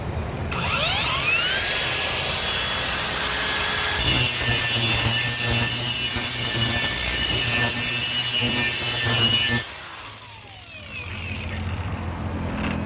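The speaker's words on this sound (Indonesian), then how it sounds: "Gerinda baterai dari Lucid LD 8500. Kita langsung saja tes di speed 3 nya." A Lucid LD 8500 cordless battery grinder set to speed 3 spins up with a rising whine, then runs loud and steady with a gritty cutting rasp for about nine seconds before winding down.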